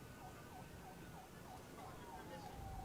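Sirens of a presidential motorcade at an independence day celebration in Guinea, a repeating wailing siren sweep heard faintly and somewhat distant over a low crowd and traffic murmur.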